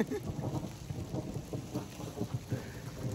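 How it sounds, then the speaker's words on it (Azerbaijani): Steady rain falls on a mountain campsite, a dense continuous patter with low rumbling underneath, close and fairly loud throughout with no voices. "Yenicə başlamışdıq ki, yağışı görürsünüz də."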